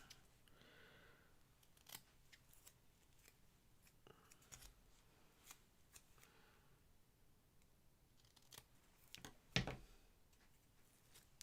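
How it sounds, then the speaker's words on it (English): Scissors snip paper for spring card making at a craft table: quiet, scattered single cuts and small handling clicks, one sharper snip standing out near the end, with no talk. "Scissors."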